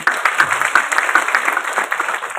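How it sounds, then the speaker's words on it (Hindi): Applause from the audience at a Rajasthan Sahitya Akademi foundation-day award ceremony in Udaipur, as a poet is welcomed: close, lively clapping with distinct sharp claps sustained throughout. "स्वागत करिए तालियां बजाकर।"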